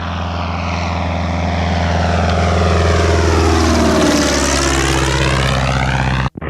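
Propeller airplane, a Thorp kitplane being flown for airspeed calibration, heard from inside as a loud, steady engine drone with strong propeller harmonics that shift in pitch partway through, running continuously with no talk.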